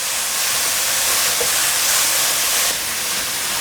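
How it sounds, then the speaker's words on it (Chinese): Taro pieces with seasonings are stir-fried quickly in a hot pan, giving a loud, dense, unbroken hiss of sizzling oil with no talk over it. "快速翻炒，把调味料炒匀。"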